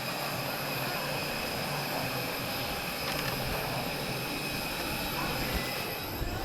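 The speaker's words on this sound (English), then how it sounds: "I can see a Pitts S2 also taxiing towards the runway as well." A Pitts S2 propeller aircraft taxis toward the runway at a Portugal airshow, a dense, steady engine roar and broadband rumble at constant loudness with no clear breaks.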